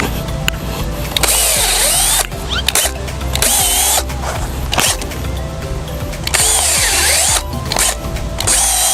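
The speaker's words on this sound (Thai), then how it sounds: "เราก็จะทำการเจาะล้อมแผลไว้นะครับ เพื่อเป็นการบล็อกเชื้อครับ" A power drill bores holes into a tree trunk around a diseased wound, loud and close, running in sustained bursts with brief pauses and pitch shifts as the bit bites into the wood.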